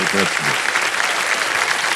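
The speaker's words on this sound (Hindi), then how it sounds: "जोरदार तालियां बज जाए एक बार फिर" Loud, continuous applause from a studio audience on the KBC quiz show, many hands clapping densely, with a brief voice heard near the start.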